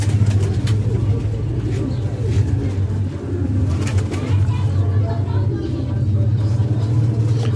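Pigeons from a flying loft coo steadily in low, rolling tones, a continuous soft murmur with faint traffic hum and scattered background noise running throughout.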